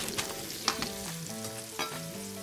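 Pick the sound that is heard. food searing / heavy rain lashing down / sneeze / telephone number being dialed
food searing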